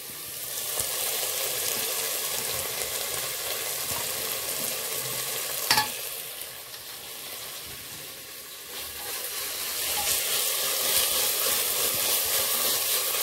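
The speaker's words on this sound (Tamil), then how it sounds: "இந்த தேங்காய் எண்ணெயும் நெய்யும் வச்சு நம்ம தாளிச்சிருக்கோம்" Mint leaves fry in hot coconut oil and ghee in a pan, a steady close sizzle with stirring and one brief clatter partway through, and no talking.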